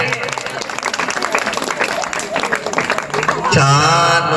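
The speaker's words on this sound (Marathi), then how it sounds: "टाळ्या वाजवलं की नाही" Clapping from an audience at a stage hypnosis show, a busy continuous patter of hands under crowd noise and scattered voices, with a voice speaking over it toward the end.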